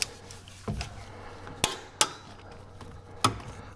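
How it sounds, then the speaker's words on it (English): Torque wrench tightening the strut bolts on a 2007-2013 GMC Sierra or Chevrolet Silverado 4WD, a handful of sharp metallic clicks and clinks spaced irregularly, close and fairly loud against quiet shop air. "Now I'm going to torque them down to 37 foot-pounds"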